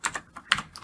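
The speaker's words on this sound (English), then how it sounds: "So now I'm going to hit enter on my keyboard twice" Several separate keystrokes on a computer keyboard, crisp clicks spread unevenly over under a second, close and fairly quiet with no talk.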